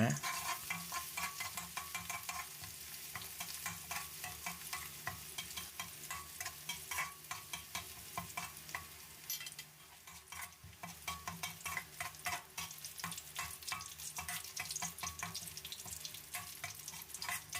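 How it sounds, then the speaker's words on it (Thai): Garlic fries in hot oil in a wok, a continuous close crackling sizzle with repeated scraping stirs running throughout, no voices. "อย่างแรกของเราก็จะเจียวกระเทียมกันก่อนนะครับ เจียวจนหอมเหลืองเลยนะ"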